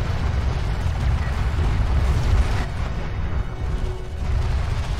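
Heavy explosions and booming railgun fire rumble through a Homeworld: Deserts of Kharak battle, a dense, loud, continuous roar with rolling impacts across the whole stretch.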